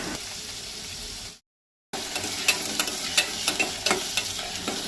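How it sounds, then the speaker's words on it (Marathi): Onion, chili and chopped potato fry in oil in a pan, a steady close sizzle with scraping stirs, cut by a brief total silence before the frying resumes. "1 मिनीट कांदो आनी मिरची तेलार परतून घेवपाक जाय।"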